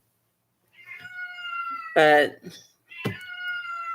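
A cat meows and cries repeatedly in the background, several drawn-out calls of moderate loudness, while a person says a word in the middle.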